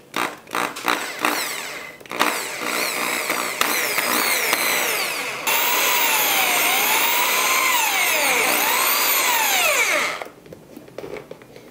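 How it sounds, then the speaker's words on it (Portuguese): Power drill boring holes into a football boot, starting with a few rough bursts, then a sustained loud whine that rises and falls in pitch as the bit works through, before cutting off. "Agora vamos furar essa chuteira aí."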